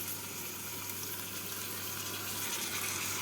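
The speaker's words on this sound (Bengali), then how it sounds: "মাছের থালাটা ধুয়ে অল্প জল দিয়ে দিলাম" A little water from a rinsed prawn plate poured into a pan of onion and tomato for prawn vindaloo, making a steady, close splashing gush with no talk.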